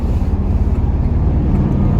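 A Z28 F-Body Camaro engine pulls hard in third gear with a loud, continuous low rumbling roar.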